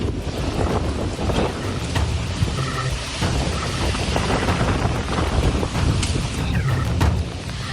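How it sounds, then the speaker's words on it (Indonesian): A heavy rain and strong wind storm sweeps the city centre of Sidoarjo, East Java, with loud, gusting wind buffeting the microphone over a dense, continuous roar and no voices. "Hujan deras disertai angin kencang Senin sore melanda kawasan tengah kota Sidoarjo."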